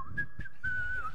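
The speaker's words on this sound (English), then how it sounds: "He's whistling." A cartoon character whistles a short, bright tune in Steamboat Willie, two quick chirps followed by a longer sustained note, playing faintly from a screen.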